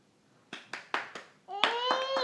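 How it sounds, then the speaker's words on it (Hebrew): A child claps hands five times in an uneven rhythm, close by, then breaks into a high, sustained voiced call. "תעשה כפיים לכולם"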